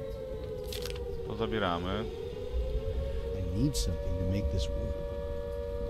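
Wailing sirens rise and fall in a post-apocalyptic survival video game, sweeping up and down several times over a steady low drone while someone talks over them.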